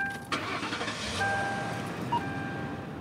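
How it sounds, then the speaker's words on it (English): Beat-up used cars driven by undercover police along East Oakland's International Boulevard during a sweep, a steady car-engine rumble with street traffic noise and a few passing tones, no talk. "Undercover cops driving beat-up used cars drive out to East Oakland's International Boulevard"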